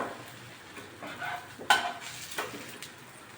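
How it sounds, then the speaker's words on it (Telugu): Masala dosa sizzling on a non-stick pan just after being flipped, a soft steady hiss with faint scraping and a brief clink near the middle, low and close. "దోశ మనం తిప్పుకోవాలి"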